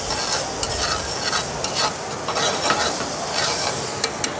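Oysters sizzle and fry in a hot cast iron pan, a steady close hiss broken by sharp crackles and bursts of stirring, with no talking.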